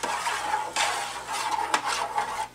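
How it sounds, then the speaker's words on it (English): A spoon stirs cheesy tuna bake inside an air fryer, making close scraping, rasping strokes against the pan in an uneven rhythm over the appliance's steady fan hum. "So, I'm just going to give this a stir and see how it's coming."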